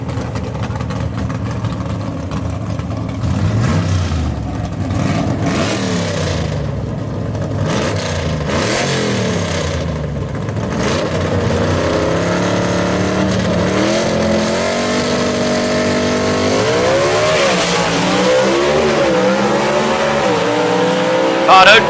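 A 1958 Delray gasser drag car with One-Way Technologies power roars at Knoxville Dragway, its engine note rising and falling in loud sustained revs as it launches and pulls away, under continuous announcer commentary and crowd noise.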